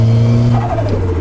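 A Ford Sierra estate with a 500 hp Cosworth engine accelerates hard, a loud, steady engine roar whose pitch climbs and shifts as it pulls, close by and with no talk over it.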